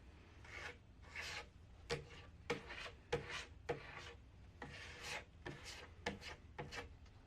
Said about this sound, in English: spread this stuff against the grain with something like a spatula like this, and then wipe off the excess with the grain